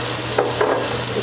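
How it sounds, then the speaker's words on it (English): Green cabbage goes into a pot of minestrone soup, a short, soft rustle and stirring scrape over a steady low sizzle, close and brief. "I'm going to add the green cabbage"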